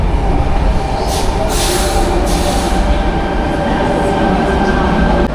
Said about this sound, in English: And I think the train is coming in.